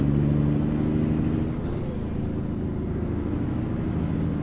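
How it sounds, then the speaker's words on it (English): A heavy truck Jake brake in American Truck Simulator rumbles steadily with a deep, stuttering low drone, sustained throughout, loud and close with no talking. "Okay, we can hear that Jake brake."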